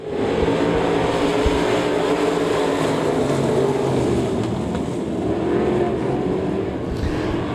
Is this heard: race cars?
yes